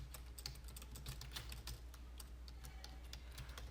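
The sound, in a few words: typing an SSH command on a computer keyboard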